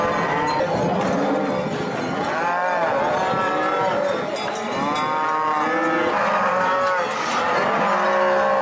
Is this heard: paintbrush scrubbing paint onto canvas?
no